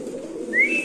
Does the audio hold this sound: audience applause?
no